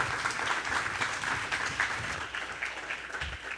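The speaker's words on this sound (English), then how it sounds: "Please, round of applause, thank you very much." Applause from an audience at the end of a startup panel at a tech conference, continuous and moderately dense. A murmur of voices runs underneath.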